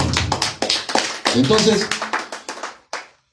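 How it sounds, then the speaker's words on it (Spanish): Church congregation clapping hands during a sermon, a series of distinct, rhythmic claps close by with a speaking voice briefly over them, ending in a final isolated clap. "Palmas a Cristo, hermano"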